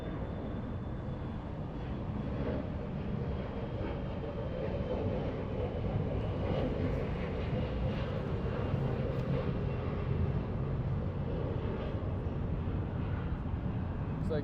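Airliners waiting for takeoff at Los Angeles International Airport give a steady, distant engine rumble and broad roar that holds throughout, with no talk.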